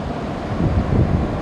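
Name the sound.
large ocean waves breaking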